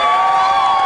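An audience at a Hyderabad mushaira poetry gathering roars with dense, continuous applause and cheering, a loud, unbroken wash of clapping and voices.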